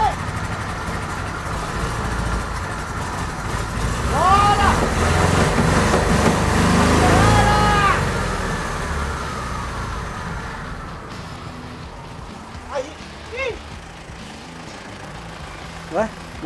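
An engine on an old project vehicle runs after finally starting, a rough, steady rumble that swells, then fades as it stalls, while people cheer and talk excitedly over it.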